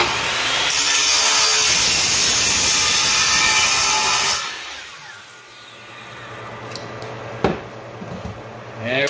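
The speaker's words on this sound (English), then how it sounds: "And we'll take the miter saw and cut this one out." A miter saw cuts through PVC pipe with a loud, harsh whine and grind up close for about four seconds, then winds down into quieter handling noise and a sharp knock near the end.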